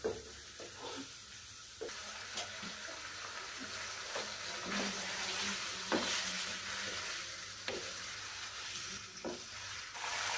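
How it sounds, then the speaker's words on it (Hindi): Garlic frying in a pan as chicken is added, a steady sizzle with scattered stirring scrapes and clinks throughout, close and moderately loud. "लहसुन का कलर चेंज हो गया, अब मैं इसमें शामिल करूँगी चिकन।"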